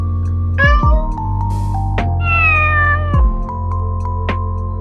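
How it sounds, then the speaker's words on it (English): A cat gives two distinct meows close by, loud and drawn out with a rising then falling pitch, over a steady humming background bed. "The cat says meow."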